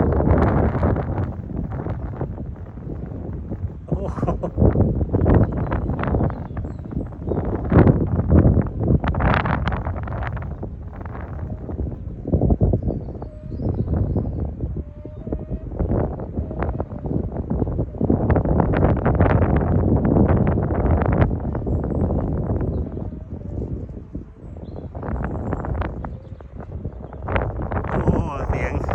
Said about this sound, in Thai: ลมฝนแรงมาลมก็โชกแรงมาพอดีครับ